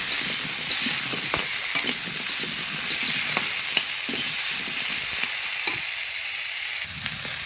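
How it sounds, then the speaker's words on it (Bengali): Potatoes fry lightly in leftover fish oil with a constant close sizzle, while sharp clicks and scrapes of stirring come at irregular intervals and no one speaks. "আলু ভাজা শেষ হালকা ভেজে নিয়েছি"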